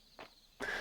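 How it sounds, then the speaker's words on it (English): A cricket chirps in the farming video game Fields of Mistria, with a short faint burst followed by a louder, brighter chirp against soft ambient background. "Oh, a cricket! We love crickets."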